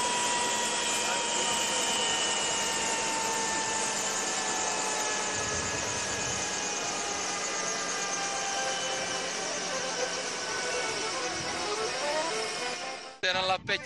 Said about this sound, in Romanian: De pe terenul de tenis a plecat către Bușteni cu elicopterul.